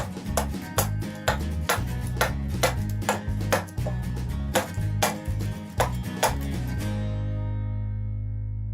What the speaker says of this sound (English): if I can do it safely with the hatchet, I might as well save myself some time